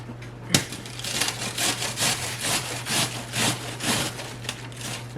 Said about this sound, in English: So get your cheese grater and grate it up.